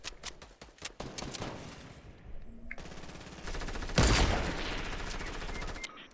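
Rapid gunfire rattles in the Fortnite video game, with bursts of closely spaced shots, a dense sustained volley in the second half and a loud blast near the middle, with no talking.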